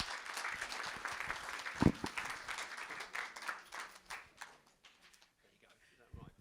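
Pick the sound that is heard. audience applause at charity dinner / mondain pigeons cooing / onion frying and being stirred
audience applause at charity dinner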